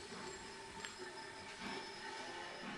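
A train pulls into a station in the railway video game Sid Meier's Railroads, giving a steady rolling rumble with faint wheel squeal and a couple of soft clanks, moderately close and without speech.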